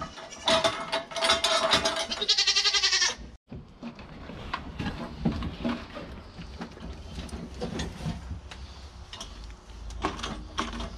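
A small, feisty goat bleating on a milk stand during milking, with several loud, close bleats early on, then quieter rustling, clanks and farmyard handling noises.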